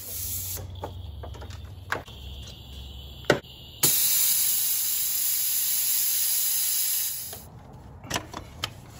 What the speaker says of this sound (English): Going to be using my little Mighty Vac here. This works pretty well, works off of shop air.